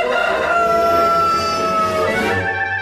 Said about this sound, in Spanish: El gallo de Radioactiva.